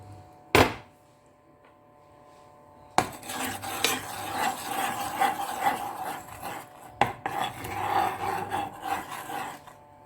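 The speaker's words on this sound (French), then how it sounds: "D'abord nous allons verser du lait et mélanger" Milk for a cheese sauce being stirred in a pan, with a sharp knock at the start and then a steady scraping, rasping swirl of a utensil against the pan, close and fairly quiet.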